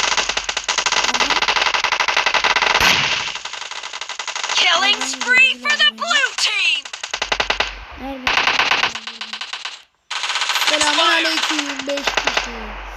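Rapid automatic gunfire in a team shooter video game, loud bursts of machine-gun fire with brief pauses, while players talk excitedly over it.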